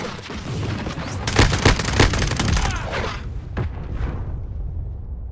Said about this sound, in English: It was a crazy Semtex.